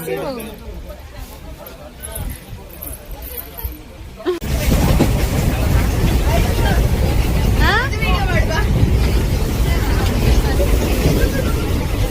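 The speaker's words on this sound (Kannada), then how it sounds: "ಜೋರ್ ಗಾಳಿ ಮಳೆ ನೋಡಿ" Strong wind and heavy rain at a camp build into a dense, loud roar of broadband noise after a quieter opening, with people talking over it throughout.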